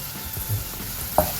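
Sliced onions for ghee rice fry in hot fat with a soft steady sizzle, with a scrape of stirring and one sharp clink near the end. No one speaks.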